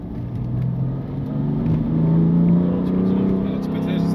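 A car accelerating on the Nürburgring in the rain: a close, steady engine drone that rises in pitch over a few seconds, with a voice speaking over it.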